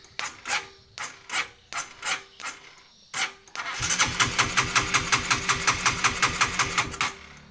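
A Honda CB150R motorcycle engine cranks in repeated rhythmic bursts, then catches and runs at a fast, steady chugging idle, loud and close.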